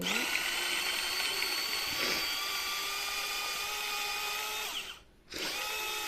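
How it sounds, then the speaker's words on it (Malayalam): Electric chopper grinding chutney, a loud, steady high-pitched motor whir that keeps going, dips briefly near the end and then picks back up, close and with no talk. "നിങ്ങൾ വിചാരിക്കണ്ടാവും ചമ്മന്തി ചോപ്പറിൽ അരയ്ക്കാൻ പറ്റുമെന്ന്"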